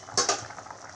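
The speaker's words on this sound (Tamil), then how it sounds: "நல்லா கொதிக்குது" Chicken curry with coconut milk simmering in a pot, heard as a soft bubbling hiss after two quick clinks as the lid comes off, close and quiet.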